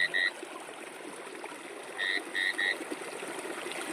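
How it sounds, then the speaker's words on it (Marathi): Clear babbling stream water flowing steadily in a Konkan nature setting, a continuous wash close by, with a few short bird or frog chirps breaking through near the start and again around the middle. "पर्यामधलं खळखळणारं पाणी स्वच्छ आणि निर्मळ पाणी आहे मित्रांनो हे."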